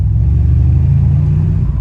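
A deep, steady engine growl from a brand-new car with its sport button engaged rumbles continuously from inside the cabin, loud and low with no talking.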